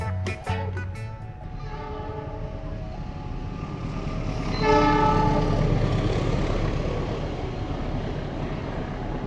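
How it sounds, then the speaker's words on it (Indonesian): A freight train carrying containers passing a level crossing, its horn sounding in sharp blasts at first, then a loud steady rumble of wagons swelling as it rolls close by. "ada kereta melintas nih teman-teman."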